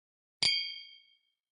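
A single bright clink of glasses raised in a toast over bourbon, one sharp ring that decays smoothly over about a second in silence.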